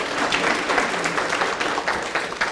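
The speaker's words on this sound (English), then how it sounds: "Give a round of applause." An audience claps steadily for a few seconds after a talk on sinus problems and treatments, a dense, even patter of many hands filling a room, with no voices over it.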